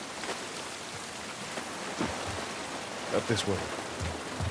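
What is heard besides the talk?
rain falling in the video game The Last of Us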